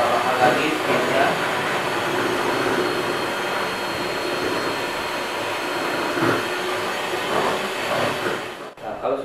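An electric mixer beating sponge cake batter of eggs and sugar at a higher speed, a loud steady whirring drone that runs throughout and cuts off right at the end.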